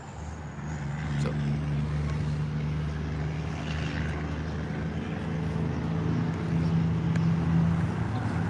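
Steady roadside traffic noise with trucks and motorbikes passing, a continuous low engine rumble and drone held at constant loudness throughout, with no talk.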